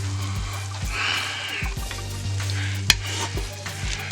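Minced garlic sizzles and gets stirred in a pot on sauté mode for stewed chicken: steady close frying hiss with a spoon scraping and knocking against the pot several times, no talk.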